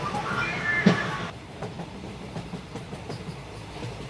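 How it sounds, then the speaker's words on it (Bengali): Saraighat Express rolling into Howrah station, a steady rumble of wheels and carriages with soft rhythmic clicks over the rails and a brief louder squeal near the start, no voices. "ট্রেন হাওড়া স্টেশনে ঢুকছে।"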